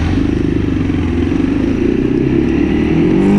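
Honda CRF300L dual-sport motorcycles ride Ozarks gravel with a loud, steady single-cylinder engine drone and a rapid throbbing pulse. The engine builds slightly toward the end, and a faint gravel clatter sits underneath.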